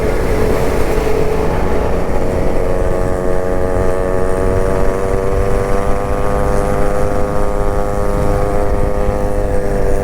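A Yamaha motorcycle engine revs steadily and loudly on a freedom ride, its strong harmonic drone holding for the whole stretch with no voices over it.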